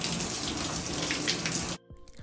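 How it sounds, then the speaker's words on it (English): Steady broadband rush of shower water running while hair is rinsed, loud and continuous for most of the moment before cutting off abruptly near the end, leaving faint drips. "here I am just rinsing my hair out, getting it wet"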